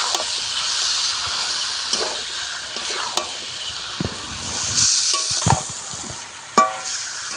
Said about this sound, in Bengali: আবারও সম্পূর্ণ মশলা মাংসের সঙ্গে ভালো করে একটু কষাতে হবে